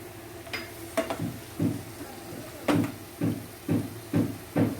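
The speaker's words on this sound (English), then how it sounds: "Saute it. Let it cook." Frozen green peas sautéed over a high flame for vegetable kurma, with a utensil scraping and clanking against the pan in a loose rhythm of repeated strokes, close and fairly loud, with light sizzling beneath.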